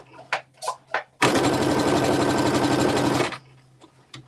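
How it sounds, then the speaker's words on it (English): Sewing machine running in one steady, fast burst for about two seconds, top stitching flat-felled seam panels on a garment, with brief soft talk before it starts and after it stops. "Now I'm going to top stitch each of the panels down."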